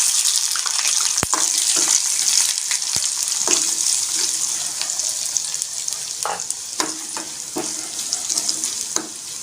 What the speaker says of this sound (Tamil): வெங்காயம் ஆட் பண்ணி கொஞ்ச நேரம் வதங்கட்டும்.